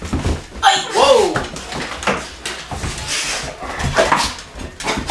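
A puppy whimpers and yelps in short, high bursts amid loud, excited chatter from several people close by.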